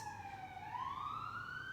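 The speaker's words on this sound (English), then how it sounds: "So sorry about the sirens." A siren wails steadily, its pitch dipping then rising in a long sweep, fairly loud and alone with no talking.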